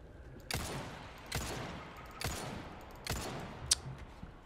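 Four evenly spaced gunshots in the Resident Evil 4 Remake video game, each a sharp, moderately loud crack less than a second apart, followed by a brief metallic click, with no talking.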